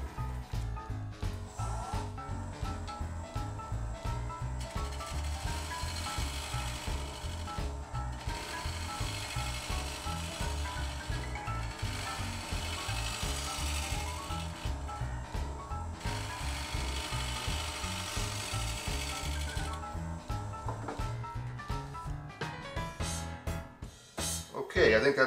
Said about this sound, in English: do a very gentle shear scraping just to round this over.